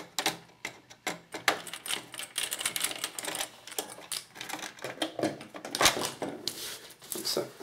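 Screw being undone from a CPU cooler back plate, a dense run of small clicking, ratcheting taps close by, a faint voice now and then underneath.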